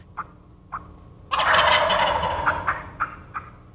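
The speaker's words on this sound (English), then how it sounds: "we managed to get a bird to gobble" A wild turkey gives one loud, rattling gobble outdoors during a hunt after morning fog. A few short, sharp bird calls come just before and after it.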